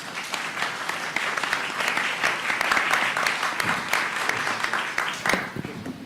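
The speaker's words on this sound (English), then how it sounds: "Audience, community members, we may now applaud our candidates" Community members at an NAACP-sponsored candidate forum in Fort Pierce applaud the candidates, a crowd's dense clapping that swells in the middle and tapers near the end, with a few voices mixed in.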